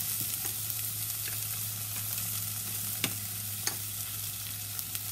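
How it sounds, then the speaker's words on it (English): Canned beans frying in shortening hiss steadily in a pan, with a couple of light scrapes and clicks as the spatula stirs them around. "stir that around"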